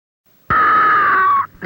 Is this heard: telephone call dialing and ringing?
no